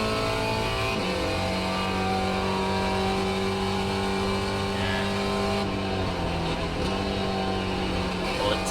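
A Spec Racer Ford race car in iRacing at Phillip Island accelerates hard, its engine note climbing steadily and loud throughout, with a brief dip near the end as it shifts before pulling again.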